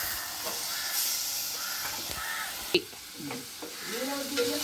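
Onions fry in a pan with a steady close sizzle and stirring scrapes, while crows caw several times in the background near the end.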